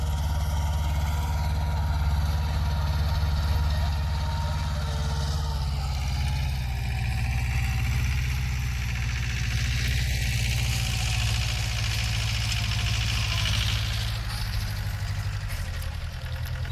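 A tractor engine idles and chugs steadily throughout, loud and close, with a constant low droning rumble while ploughing a farm field, and no talking.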